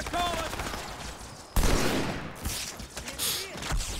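Dense bursts of automatic gunfire and explosive blasts rattle in a Halo 2 firefight, loud and close, with overlapping shots and a brief voice early on.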